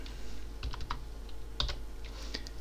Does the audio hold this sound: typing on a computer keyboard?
yes